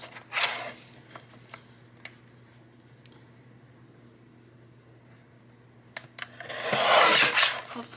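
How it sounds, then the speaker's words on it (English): Paper for a library journal page being trimmed, with a short scissor snip near the start, faint scattered clicks and rustles, then a longer, louder cutting rasp toward the end. "So I need to trim this ever so slightly."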